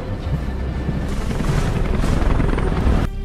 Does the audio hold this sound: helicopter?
yes